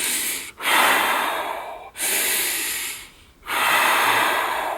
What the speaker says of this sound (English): nice cold breaths. The Wim Hof breathing method.